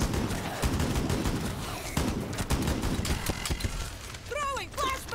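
Gunfire in Outbreak's Pandemic mode rattles in rapid, uneven bursts of sharp shots, close and loud, with mechanical clicks between volleys and someone talking over the action.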